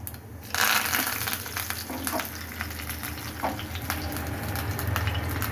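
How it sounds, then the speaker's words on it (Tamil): Mustard seeds popping and spluttering in hot oil, a crackling sizzle that jumps up loudly and keeps crackling steadily with scattered sharper pops. "கடுகு வந்து சீக்கிரம் பொரிஞ்சிடும்"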